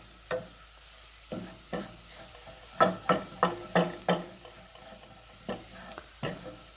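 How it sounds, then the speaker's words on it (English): Garlic fries in a pan with a faint, low sizzle, under a series of light tapping clicks as a utensil stirs it, quiet and close. "You don't want this to turn black, you just want it to fry a little bit and the garlic to release its smell."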